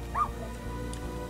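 A puppy in the game Little Misfortune lets out one short, high yip near the start, followed by quiet ambient game sound.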